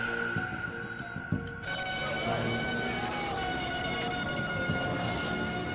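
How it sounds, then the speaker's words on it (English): An ambulance siren wails over street noise near Kuta Beach, Bali, after a bombing, its rising and falling tone sustained at a moderate distance. "By 3 a.m., ambulances arrive with the last of the survivors."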